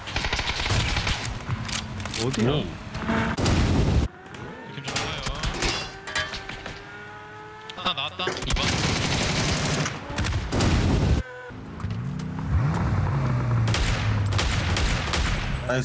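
Rapid bursts of gunfire in PUBG crackle in repeated volleys, loud and dense, while players talk excitedly over the shooting.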